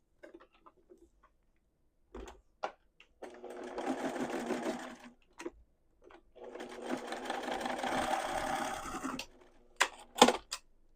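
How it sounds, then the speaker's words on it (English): A sewing machine runs in two bursts, stitching across a fabric love letter pouch with back stitching at each end, joined by small clicks and taps between the runs. "you're going to sew across there"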